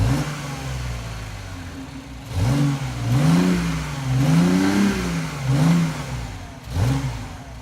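A BMW i8 heard from outside revs loudly and close by in several repeated bursts, the engine note rising and falling over a steady idle between blips.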